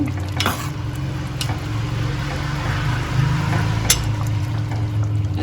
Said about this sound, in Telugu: మధ్యలో ఇలాగా తిప్పుకోండి అన్నీ బాగా కలుస్తాయి